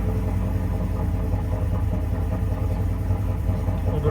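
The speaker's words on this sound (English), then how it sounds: "A little bit of a rough idle." A Ford F150 engine running at a rough idle after an alternator replacement, a steady low rumble with a faint uneven pulse, close and continuous with no voices.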